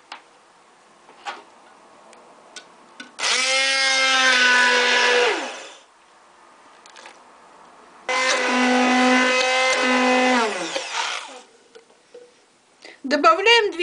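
Two long bursts of a blender chopping banana, each running a couple of seconds with a rising, straining tone, separated by quiet with a few faint knocks.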